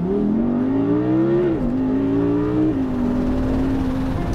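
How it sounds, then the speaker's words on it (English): An Audi R8 pulling away from a motorway toll booth, its engine note climbing steadily under hard acceleration, with a brief dip at a gear change before rising again, heard loud from inside the car. "That's how we accelerate away from the toll, as quickly as possible."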